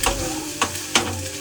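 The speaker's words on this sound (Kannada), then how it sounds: "ಜಾಸ್ತಿ ಫ್ಲೇಮಲ್ಲಿ ಇಟ್ಬಿಟ್ಟು ಮಿಕ್ಸ್ ಮಾಡ್ಕೊಳ್ತೀನಿ" A spatula scrapes an egg and sauce mixture around a pan on high flame, with a steady sizzle and two distinct stirring strokes, close and fairly loud.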